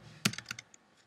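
A short run of computer keyboard typing, about six or seven crisp key clicks in a quick irregular burst, close and fairly quiet with no talk.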